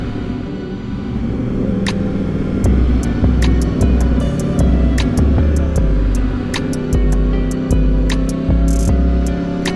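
A Yamaha R1 motorcycle with a CP4 engine rides along a volcanic lava road, giving a loud, steady engine rumble with wind roar and recurring pulses as the revs shift, heard from the rider's position throughout.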